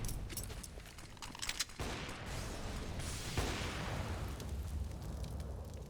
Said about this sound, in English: Fast firing MP9